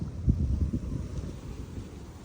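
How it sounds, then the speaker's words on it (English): Wind gusts buffet the microphone while kayak fishing among lily pads on a lake, a low, rumbling whoosh with a few heavier thumps near the start, then a steadier hiss. "It's pretty windy too."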